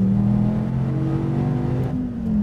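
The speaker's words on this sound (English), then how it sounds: "SRT Viper GTS going down the front straight at Laguna Seca" SRT Viper GTS sports car with an 8.4-liter V10 accelerates down the front straight at Laguna Seca, its loud, steady engine roar rising in pitch and dipping briefly near the end, heard close with no talking.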